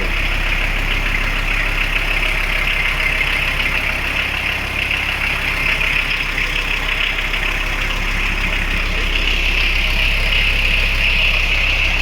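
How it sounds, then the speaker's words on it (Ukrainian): A Volkswagen van engine idles steadily and loudly at close range, with a constant low rumble and no talking. "автівочка працює."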